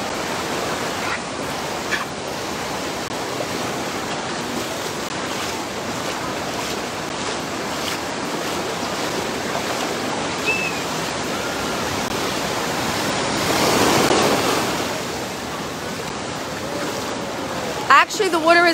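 Ocean surf rolls onto the crowded Wildwood beach on a warm summer day, a continuous broad wash of breaking waves with a swell in loudness near the end, steady and fairly close, without talk.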